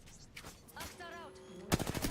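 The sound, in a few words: gunfire in the video game Apex Legends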